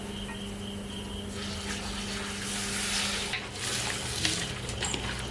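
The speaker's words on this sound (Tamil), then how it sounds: "இப்போ வந்து நம்ம ஆட்டு தலைக்கறி வேக வச்ச தண்ணியை வந்து இப்போ நம்ம சேர்த்துக்கலாம்" Water left from boiling a mutton head is poured into a simmering curry as a steady, rushing stream of liquid with a hissing wash that swells midway, close by and without speech.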